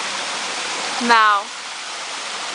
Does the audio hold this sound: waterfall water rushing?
yes